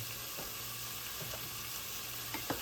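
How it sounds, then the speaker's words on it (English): Vegetables saute in a pan for a chicken or turkey pot pie, giving a steady, moderately loud sizzle. A few clinks of stirring break in near the end. "as this is sauteing, I'm gonna check on my potatoes"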